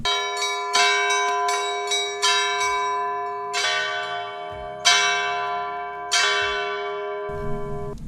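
Church bells ring out in place of civil warning sirens, with loud, resonant strikes overlapping in an irregular peal and long ringing decays, plus a low rumble near the end.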